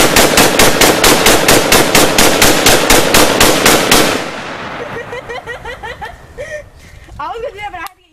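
A gun fired rapidly in a long, loud, evenly spaced burst of close shots, followed by fainter scattered sounds and a few short voice bits after the firing stops.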